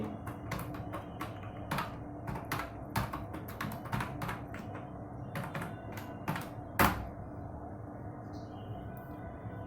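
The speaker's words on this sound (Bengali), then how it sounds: "আমাদের ব্লগের যে পাসওয়ার্ডটা সেই পাসওয়ার্ডটা আমরা এখানে এন্টার করব।" A password is typed on a computer keyboard, with quick irregular key clicks near and clear, ending in one firm heavier keystroke, then a quiet pause.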